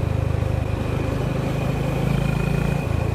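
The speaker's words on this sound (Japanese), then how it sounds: "パカッと開けても エンジンの方はおっとりしたもので" A Honda GB350S single-cylinder motorcycle engine drones while riding on a winding road, a loud, steady low thrum with a fast regular pulse and wind noise over it throughout.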